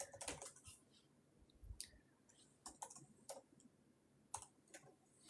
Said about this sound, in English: I was just typing and it wasn't the right place I was typing.